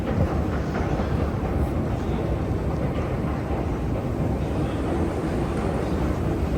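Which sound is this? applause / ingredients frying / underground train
underground train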